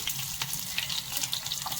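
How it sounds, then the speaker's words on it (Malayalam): Mustard seeds fry in hot oil in a pan for Kerala koottu curry, giving a steady, close crackling sizzle with tiny pops scattered throughout and no talking. "അപ്പോൾ നമ്മുടെ കടുക് വറുത്തു"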